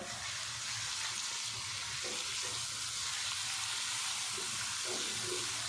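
Steady, close sizzling as crushed fresh garlic hits light-browned onions frying in a pan for a ridge gourd (tori) vegetable dish, continuous and even with no talk over it.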